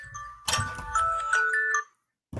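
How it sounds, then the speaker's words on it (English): A phone ringtone sounds as a short, loud melodic phrase of several sustained tones lasting about a second and a half, then stops abruptly before a brief noise. "Oh, and that's a new ringtone."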